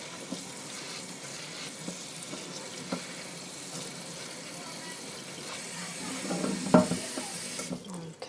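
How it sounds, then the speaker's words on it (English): Creasy greens being rinsed under cool running tap water in a kitchen sink, a steady low wash of flowing water with faint splashing and a brief louder clatter near the end. "So just rinse them real good with some cool water."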